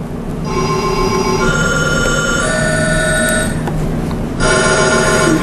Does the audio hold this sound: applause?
no